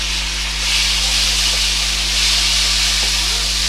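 Tomatoes hitting hot oil with white cumin and dark-browned onions, a loud close sizzling hiss that surges in waves over a low steady hum, with no talking.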